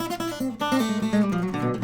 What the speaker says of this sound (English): if I play a pentatonic run that sounds like this